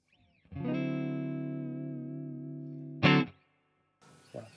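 Clean electric guitar through an amp with reverb, a single sustained chord ringing for about two and a half seconds, followed by a sharp strummed hit and a shorter faint strum after a pause, no voices.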